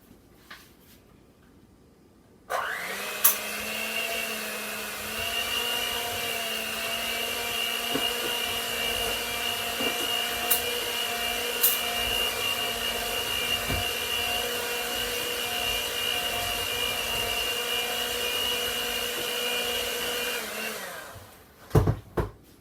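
Electric hand mixer beating instant brownie batter in a home kitchen, switching on with a steady, loud motor whine that holds for about eighteen seconds before cutting off, with a couple of knocks at the end.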